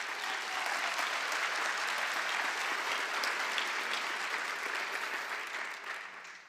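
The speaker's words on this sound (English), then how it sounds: "a round of applause to everyone in the Thousand Oaks community" Sustained audience applause at a community book event in Thousand Oaks, a steady dense wash of clapping from a large crowd that holds evenly for several seconds before tapering slightly at the end.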